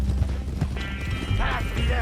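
Horse hooves clop in a quick irregular rhythm during a caravan ride in the video game Red Dead Redemption 2, close and fairly loud, with a short rising whinny near the end.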